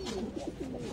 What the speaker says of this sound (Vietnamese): Bồ câu của nó đang đẻ